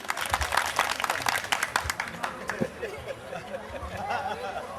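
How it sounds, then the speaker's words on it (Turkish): Villagers at a picnic in Kutluca, Çamoluk, Giresun clap in a loose burst that thins out after a couple of seconds, mixed with chatter and light laughter that continues afterwards. "Yak bir alkış"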